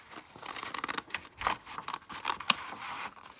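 Scissors snip around a hand outline drawn on paper for a bunny puppet craft, with quiet, close cuts and crisp paper rustles in an irregular run of short bursts.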